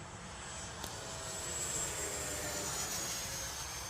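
A Freewing 90mm F-16 radio-controlled electric ducted-fan jet in its 6s version makes a high-speed pass over a runway: a steady, loud rushing roar with a thin turbine-like whine that bends downward as it passes, with no talking.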